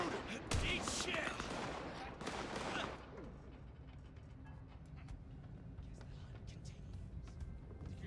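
Gunfire in the video game Vampire: The Masquerade – Bloodlines 2, a few sharp shots early amid shouting voices, then fading into quieter ambient rumble with faint distant pops.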